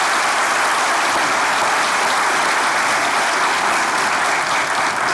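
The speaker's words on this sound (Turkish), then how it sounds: "Onlara kocaman bir alkış." Comedy-show studio audience greets two performers with thick, unbroken applause, loud and uniform from start to finish, a wall of many clapping hands.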